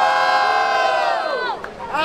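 Crowd at a Batalha da Aldeia rap battle in Barueri roaring and shouting in one sustained, loud wall of voices, tapering briefly before swelling again at the end.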